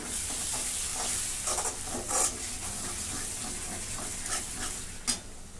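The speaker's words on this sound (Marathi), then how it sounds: "2 मिनिटं चांगला मसाला मी शिजवून घेतलाय मी" Masala cooking in a pan for chicken gravy, giving a steady close sizzle and frying hiss with occasional stirring scrapes and a brief clink near the end, and no talking.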